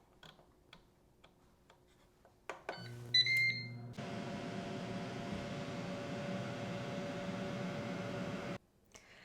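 A Ninja Crispi Pro air fryer runs on recrisp at 350 degrees with a frozen pizza inside. After a few soft ticks and button beeps, a steady fan whoosh with a low motor hum fills several seconds, then cuts off abruptly.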